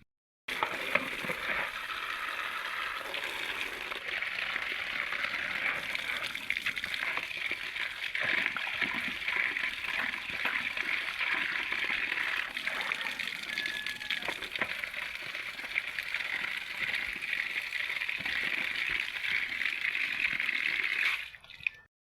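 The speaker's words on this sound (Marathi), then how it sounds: "करिंद धुत आहेत." Karinde tubers are washed by hand in clean water, producing steady splashing, swishing and dripping for about twenty seconds, close and fairly quiet, with no talk.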